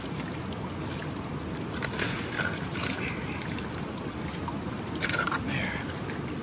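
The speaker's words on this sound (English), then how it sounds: "I need some more water coming in through there." Water streams steadily into a prototype gold pan outdoors, a continuous broadband rushing with small splashy surges, moderately loud and unbroken.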